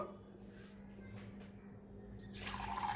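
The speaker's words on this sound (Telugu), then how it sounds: "ఏ గ్లాస్తో అయితే మనం రైస్ తీసుకున్నామో అదే గ్లాస్తో వాటర్ యాడ్ చేసుకుందాము" Water is poured from a glass into a pot of soaked rice for a vegetable biryani. Faint dripping and trickling come first, then a brighter, fuller pour near the end.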